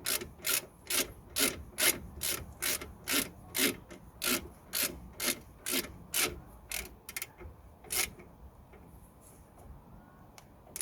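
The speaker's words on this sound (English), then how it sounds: "Just gonna lock the guide pin with the 17mm spanner." A 17mm spanner tightening a brake caliper guide pin on a Suzuki Vitara, a steady rhythm of about fifteen rasping ratchet-like strokes, close and clear, then quieting into a few lighter clicks.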